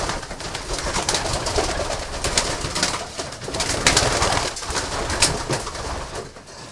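Racing pigeons fill a loft with continuous overlapping cooing and fluttering, a dense busy flock sound with no voices.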